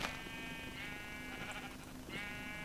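Sheep in the video game Minecraft bleat in a few overlapping calls, a soft, slightly buzzy flock sound over steady background hiss, with no talking.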